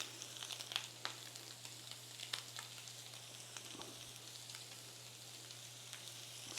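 Garlic sizzling in pork fat in a pan for spicy garlic noodles, a steady soft frying hiss with small crackles and pops throughout, quiet and close with no talking.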